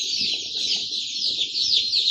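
Three-day-old ducklings and chicks keep up a dense, continuous chorus of shrill peeping, many overlapping calls at an even level close by, with no talking.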